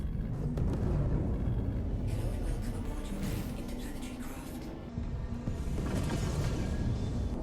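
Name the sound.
Drake Corsair ship thruster sound, Star Citizen video game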